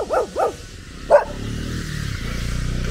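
A hairless Peruvian dog barks twice in quick succession and then once more, close and loud, followed by a steady low rumble in the background.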